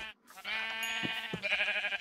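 Sheep bleating in the Minecraft video game, several drawn-out, wavering bleats following one another closely at moderate loudness after a brief quiet moment, with no talking over them.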